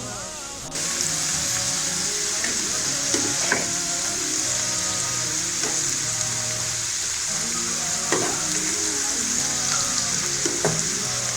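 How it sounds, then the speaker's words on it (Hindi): Onions and potatoes frying in a pan, a steady bright sizzle that sets in after a quiet first second and holds throughout, with occasional clinks of a spoon stirring. "प्याज और आलू हमारे अच्छी तरह फ्राई हो गए हैं।"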